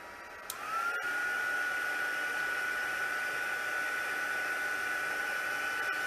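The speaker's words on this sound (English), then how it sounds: "I'm going to use the heat tool to raise that embossing powder." An embossing heat tool switches on with a click and rising whine, then blows a loud, steady whirring hiss while melting embossing powder.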